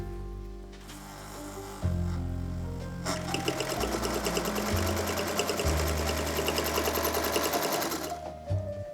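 A 1950s Singer 201K sewing machine with a knee lever runs in steady bursts, its rapid needle clatter and motor hum close and loud, surging and easing in speed for several seconds without talk.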